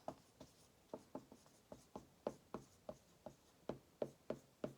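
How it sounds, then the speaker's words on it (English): Pen strokes scratching across paper in a quick, uneven series of short marks while working out a percent-decrease math problem, close and fairly quiet with no talking. "let's write that down"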